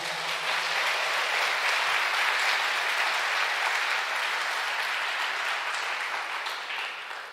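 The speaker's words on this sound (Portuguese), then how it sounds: "Aplauda o Senhor nessa manhã." A church congregation applauds during a morning worship service, a dense, steady wash of clapping that holds loud and even for several seconds before easing slightly at the end.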